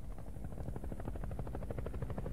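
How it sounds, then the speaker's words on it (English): A helicopter in the Saints Row IV video game beats loudly and steadily overhead at night, its rapid rotor chop pulsing evenly without any voices. "We got the helicopter against the night sky."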